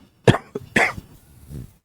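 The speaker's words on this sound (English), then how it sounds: "I keep coughing" Two sharp coughs close to the microphone, followed by a softer throat-clearing rasp, with short silences between them.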